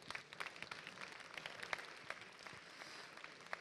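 An audience at the E-Marketing Paris 2019 conference round table gives a faint, steady patter of applause that runs evenly from start to finish, heard from a distance.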